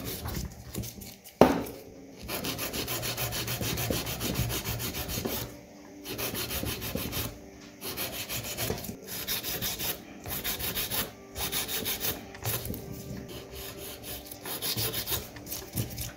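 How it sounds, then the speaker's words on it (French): A 100/180 grit nail file rasps back and forth across a fingernail during gel nail preparation, close and steady in repeated strokes with short pauses between bursts. "Avec ma lime à grain 100-180, je vais déjà venir un petit peu la forme de mon ongle"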